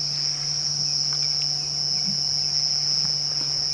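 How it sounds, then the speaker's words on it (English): A steady, high-pitched cicada buzz drones continuously on a summer evening, loud and unbroken, with a low hum underneath and a few faint clicks. "It is the subtle, marvellous sound of summer, of the cicada."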